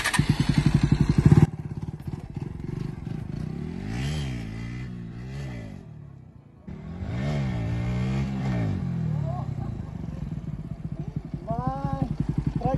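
A motorcycle revs hard and shifts gear during a wheelie. Close and loud, the engine climbs and drops in repeated sweeping surges, with a brief dip at the gear change.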